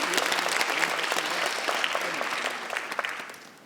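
Applause from the audience at a university graduation ceremony, dense clapping throughout that holds steady and then thins and fades toward the end.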